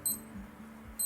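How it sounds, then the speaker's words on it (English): A Q&Q MMW3 digital watch sounds its alarm, two brief high electronic beeps at the start and end of a quiet moment, close and faint. "and it will give beeping sound like this."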